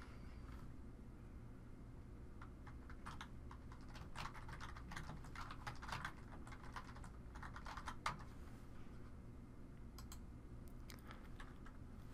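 Keyboard typing on a computer while filling in a special-instructions field in sales quote software: irregular bursts of quiet keystrokes over a steady low hum, with a few isolated taps near the end.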